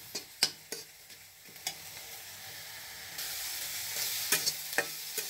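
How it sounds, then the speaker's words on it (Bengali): Shrimp shells frying in a little oil with a pinch of salt, a faint steady sizzle broken by sharp clicks and scrapes of stirring, growing slightly louder toward the end. "দেখেন আমি বেশি তেল দিইনি, অল্প তেল দিয়ে চিংড়ি মাছের খোসাটা ভাজতেছি।"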